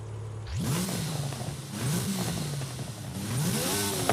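A car engine revs up sharply in the video game Forza Horizon 6, rising in pitch several times in quick bursts, loud and close with a steady low drone underneath.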